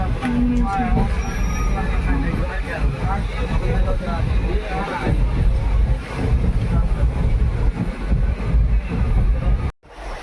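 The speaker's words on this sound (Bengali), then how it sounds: "ট্রেনটা কিন্তু বন্ধুরা সুপারফাস্ট, নবদ্বীপ, মালদা নবদ্বীপ ট্রেন" Steady rumbling road-and-rail roar inside a moving Malda–Nabadwip superfast passenger train, loud and continuous throughout, with voices talking over the noise.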